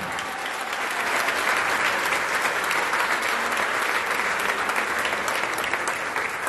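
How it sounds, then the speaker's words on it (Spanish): Sustained, loud applause from an audience at a municipal swearing-in ceremony for a Movimiento Ciudadano operating commission, a dense unbroken wash of clapping holding steady throughout. "para que pida un fuerte aplauso"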